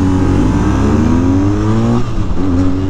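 A 2022 BMW R nineT motorcycle accelerates hard out of first gear, its engine note climbing loudly in pitch, then dropping briefly at a shift before rising again.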